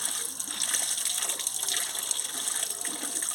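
Water runs steadily from a tap while food is rinsed until the water turns clear, making a continuous close gushing splash with no pauses.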